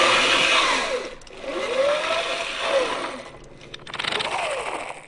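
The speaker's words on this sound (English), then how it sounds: "There was a private cranking a generator to provide power for an army radio in the field." Old hand-cranked army field generator for a radio, its whirring pitch swelling and falling in slow uneven cranking cycles, close up and alone.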